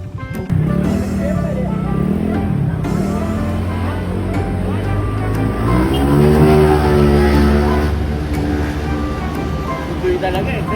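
A motorbike out on a test ride in Thailand revs and accelerates nearby, its engine note rising and falling in loud sweeps with road noise underneath, while people talk over it.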